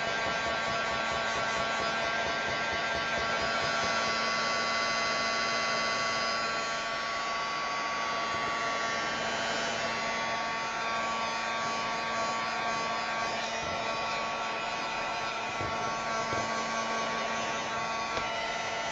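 A hair dryer or heat tool drones steadily while drying a painted art journal page, a continuous close blowing hum with faint tonal whine, unbroken from start to finish.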